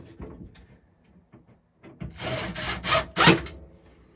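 An L bracket being fitted onto a wooden arcade cabinet beside glass: faint scattered taps and knocks, then a burst of loud scraping and rubbing of metal against wood in the second half.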